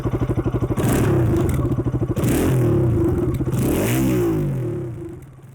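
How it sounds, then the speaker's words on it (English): A Bajaj Pulsar RS200 BS6 motorcycle engine idles with a throbbing thump, then revs hard twice, the exhaust roaring and falling back before fading out. "Just listen to the exhaust note once and let us know your opinion in the comments."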